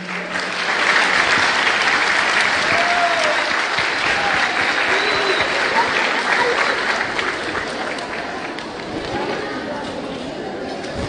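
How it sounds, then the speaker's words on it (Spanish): An audience at a school Fiestas Patrias arts evening at Escuela Roberto White in Palena gives loud, dense, sustained applause that fills the room, easing off slightly in the last few seconds. "Ahí le damos el aplauso, por favor."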